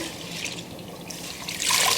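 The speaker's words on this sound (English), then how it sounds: "So I can let the water out, inspect the water." Water drains steadily from a kitchen sink after washing mustard and collard greens, a soft continuous gurgling flow that swells louder toward the end, with no voices.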